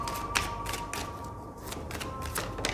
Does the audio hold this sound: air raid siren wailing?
no